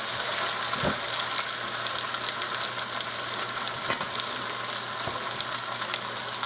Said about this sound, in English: I'm stirring up these onions in here.